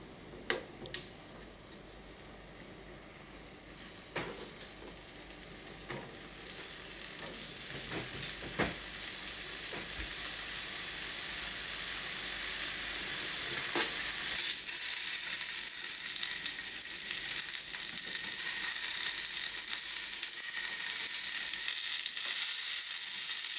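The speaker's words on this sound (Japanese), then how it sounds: "下味はつけないで、そのままフライパンで焼いていく。" Unseasoned fish sizzles steadily in a frying pan for a long stretch, a continuous crackling hiss that swells slightly louder as it goes, with a few faint ticks and knocks early on and no talking.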